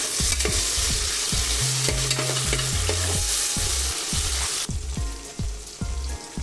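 Tomatoes frying in a pan with onion, chilli and spices for Maharashtrian green chickpea rice: a loud, steady sizzle with regular, close scrapes and knocks of the spatula, and no talking.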